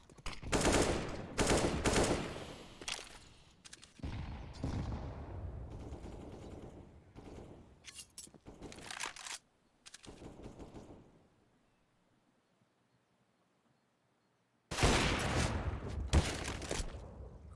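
Rapid rifle fire in a Counter-Strike match on the Inferno map, clusters of sharp shots and bursts over several seconds, a near-silent pause, then a final loud volley.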